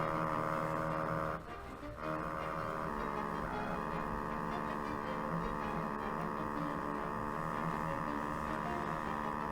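Steady droning hum from a 1934 Philco Model 45 radio with failing paper capacitors, a constant buzzy tone with a brief dip near the start, filling the room without any voices.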